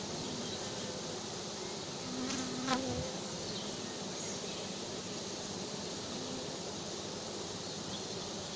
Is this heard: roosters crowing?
no